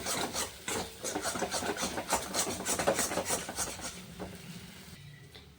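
Dried chili being crushed by hand with a little salt and sugar: steady close rasping and rubbing strokes continue for about five seconds, then stop, with no talk.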